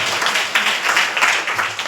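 A church congregation claps during a fasting prayer service, giving a short, close wash of many hands applauding together for about two seconds.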